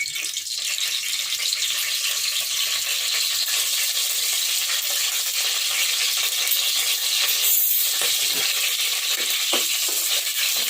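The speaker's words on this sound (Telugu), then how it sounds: "కుక్కర్ ఒక 2 చెంచాల నూనె పోసుకో. పచ్చిమిరపకాయలు వేసుకో." Green chillies frying in hot oil in a kadai, a steady close hiss and sizzle holding at an even level throughout, with a few faint crackles and light pops.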